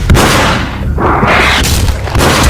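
Gunfire in the Max Payne 2 video game: loud, booming shots that fill the short stretch, layered into a dense, continuous roar with a few sharp bursts.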